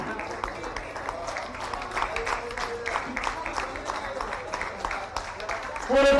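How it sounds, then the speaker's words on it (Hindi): A crowd applauds at a government ceremony where athletes, including a boxer, receive appointment letters from the chief minister. The clapping is sustained and mid-distance, with a brief louder burst at the very end. "उनके लिए हम तालियां जोरदार करते हैं।"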